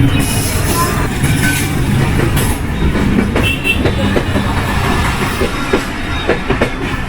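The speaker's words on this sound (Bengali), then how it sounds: "আন্ডারপাসের ওপর দিয়ে কিন্তু ট্রেন চলাচল করছে" A train rumbles past close by on a century-and-a-half-old British-built brick underpass in Alamdanga, with loud rhythmic clickety-clack of wheels over the rails and occasional metallic squeals.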